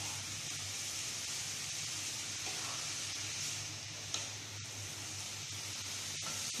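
Grated carrots frying in ghee for carrot halwa give a steady, soft sizzle with an occasional faint stir or tap in the pan, no one speaking.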